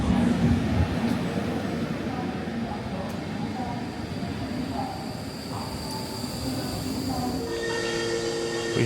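A Swiss train pulling into Visp station, a steady rumble of rolling railcars with brief metallic squeals and clanks, ending in a louder tonal whine as it slows, with voices heard over it.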